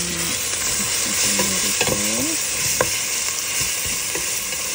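Ginger garlic paste frying in a pan with browned green chilies, a constant sizzle with occasional scrapes and taps of a utensil stirring it close up.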